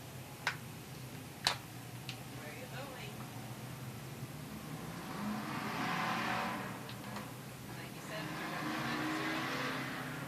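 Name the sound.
hobby stock race cars driving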